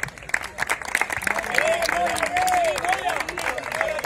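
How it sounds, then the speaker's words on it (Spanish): A crowd applauds at a football team's awards event, uneven clapping with a few cheers, and a voice calling out over the middle of it. "Un fuerte aplauso."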